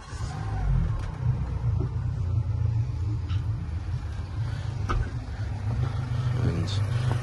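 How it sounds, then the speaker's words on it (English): A Jeanneau Merry Fisher 795 boat's outboard engine, started by push button, runs with a steady low rumble throughout, idling evenly and quietly with a constant drone and faint background noise, no distinct start-up burst. "And there you can hear the engine running,"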